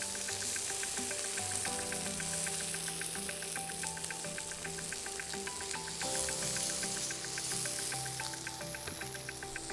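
Carrots go into a hot pan with seared chicken breast, and a loud, dense sizzle crackles steadily and close throughout, with a faint tonal hum beneath and no speech.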